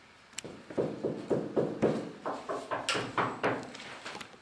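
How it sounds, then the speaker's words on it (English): Steady knocking in a dramatised scene of the death of King Duncan: about a dozen evenly spaced, muffled thuds repeat one after another with no voices over them. "Where is that knocking coming from?"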